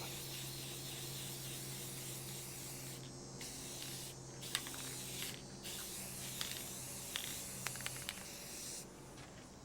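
Spray paint being applied in a coat to a Suzuki RV125 motorcycle fender, steady hissing bursts with short pauses, close and fairly loud over a low constant hum, no talking.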